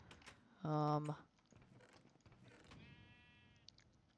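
Minecraft sheep lets out one loud, clear bleat up close amid quiet game ambience, with someone talking softly and a later fainter bleat-like tone.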